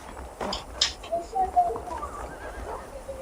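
Saddled horses in the video game Red Dead Redemption give a close neigh with a few hoof clip-clops and a soft bird call, set against low outdoor ambience with no talk.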